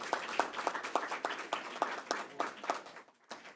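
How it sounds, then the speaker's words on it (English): A small group applauds at a school board of trustees meeting: fairly quiet, distinct individual claps in a loose rhythm that fade out, then a single late clap. "Let's give Mr. Ross another round of applause"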